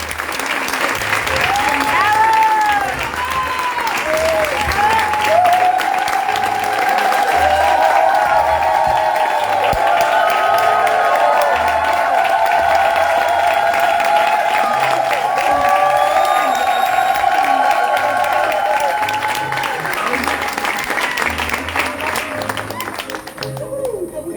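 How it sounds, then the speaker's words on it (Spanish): Audience applause for artists at an exhibition opening, loud sustained clapping with cheers and whoops that carries for over twenty seconds before easing slightly at the end. "Aplauso para las paganas, para Emilce Marcolongo, para Malena Tello, compañera de la imprenta, y para Fede Fénix"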